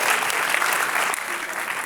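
An audience at a public science and cooking lecture applauds, a steady wash of many clapping hands that eases slightly toward the end.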